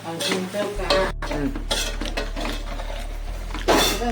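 Puri uppittu, puffed rice chitranna with mint, is stirred in a pan with scraping, clattering strokes over a low steady hum and a faint sizzle.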